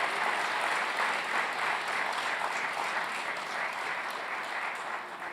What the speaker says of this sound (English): You can clap, that's great, yeah.